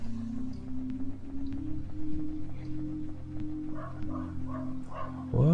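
A dog barks and yips outside in a dark fantasy game, a few muffled barks beneath a steady droning low tone and music, ending with a sharp louder yelp.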